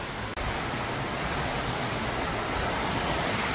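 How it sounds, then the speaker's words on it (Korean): Steady, dense rushing water roar of Yongchu Falls in Juwangsan's Yongchu Gorge, South Korea, loud and continuous, with no voices. "저기에 폭포가 보입니다."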